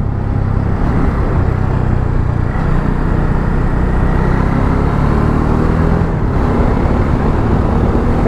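A vehicle driven on a breakfast ride gives a loud, continuous rumble of engine and road noise mixed with rushing air, steady and close throughout.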